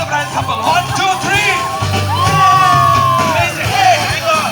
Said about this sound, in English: Can you cheer the bridal couple?